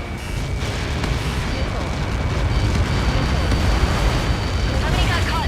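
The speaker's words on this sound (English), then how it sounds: "How many got caught in that explosion?" A missile impact explosion in Ace Combat 7 erupts as a sustained, loud, dense roar of blast and rumbling debris that fills the whole stretch, with no talk over it.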